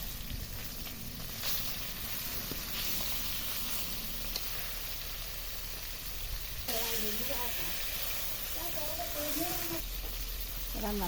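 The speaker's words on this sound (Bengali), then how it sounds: "আমি সবগুলো মাছই দিয়ে দিয়েছি, এখন একটু উল্টিয়ে তেল দিব আর একটু, তারপরে উল্টিয়ে দেব।" Fish fry in oil in a pan, a steady close sizzle running throughout while someone talks over it in the second half.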